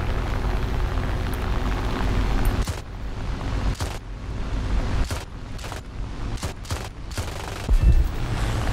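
Aircraft guns on a D-500 fighter in the War Thunder flight game fire in several sharp bursts of varying length over a steady, loud engine drone.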